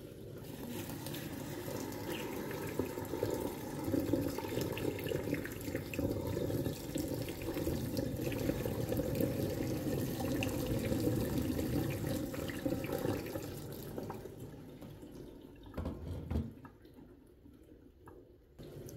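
Hot water, warm but not quite boiling, pours steadily into a clogged kitchen sink for about fifteen seconds, a continuous rushing splash close by. It then tapers into a few drips and gurgles near the end, with no voices.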